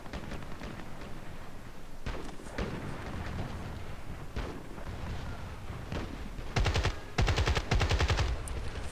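Assault rifle fire in Battlefield Play4free: scattered single and short bursts of shots early on, then rapid sustained automatic volleys near the end, loud and close over a continuous background rumble.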